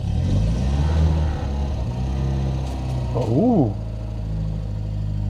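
A Citroën BX 16Valve engine, unused for 18 years, runs loud and steady and close by, with a brief rise in revs partway through. A voice exclaims briefly over it.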